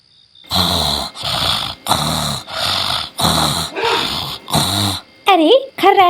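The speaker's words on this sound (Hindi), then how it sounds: "अरे खर्राटे की आवाज आने लगी, मतलब ये सो गए हैं।" A cartoon character snores loudly in a rhythmic series of about seven drawn-out, growling breaths, followed by short voiced sounds at the end.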